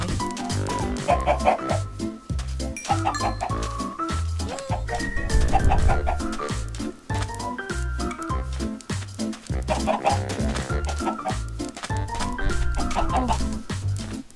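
Chickens in Minecraft cluck over and over in a steady, busy stream, loud and close, with repeated sharp bursts layered over continuous in-game background sound and no talking.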